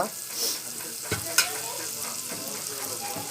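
Turmeric being stirred into a frying mixture in a pan, a soft continuous sizzle with a couple of sharp utensil clinks against the pan, close and fairly quiet.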